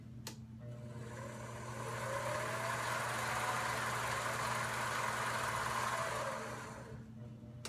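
A Grizzly G0765 lathe motor runs with a steady low hum and a broad whirring hiss that swells and then dies back down, close but fairly quiet.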